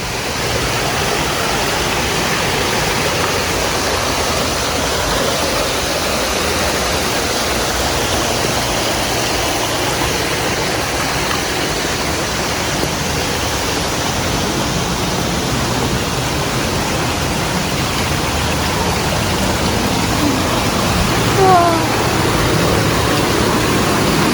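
A freshwater stream on a hiking trail flows in a continuous, loud, even rush of water that stays steady throughout, close by with no voices.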